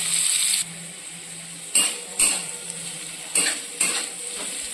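Potatoes fry in a pan until reddened, making a hiss under several sharp utensil scrapes and clinks at irregular intervals, with no talking.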